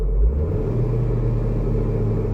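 A Ford Transit van engine revs on a throttle snap, a sharp surge at the start settling into a loud, steady low rumble close by.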